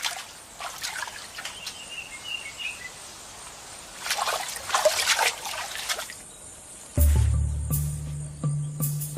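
Water splashing and trickling as chimpanzees bathe and play in a pool, in irregular bursts with faint bird calls in the background, followed by a louder, lower rumble near the end.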